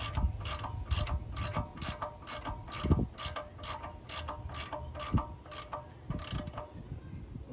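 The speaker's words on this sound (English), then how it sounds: "Tighten it up nice and tight." A hand ratchet tightens a bolt during a belt change on a 2001-04 Kia Rio, giving a rapid run of about a dozen crisp, evenly spaced clicks, close and clear with no talk.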